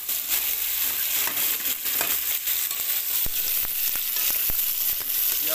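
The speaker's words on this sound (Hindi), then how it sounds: "ये 1 किलो चिकन इसको फ्राई करूँगा" One kilo of chicken fries in a kadhai over browned onions, giving a dense, continuous loud sizzle with a few sharp clicks of utensils against the pan.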